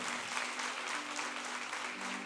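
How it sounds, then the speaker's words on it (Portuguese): A church congregation applauds in a sustained, even burst of many hands clapping, filling the room at a steady level with a faint low hum beneath. "Pode aplaudir o Senhor."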